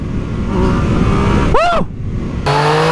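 A 2020 Yamaha MT-09 motorcycle engine roars steadily under load, then rises in a sweeping pitch climb, drops briefly, and resumes a loud, close, sustained drone.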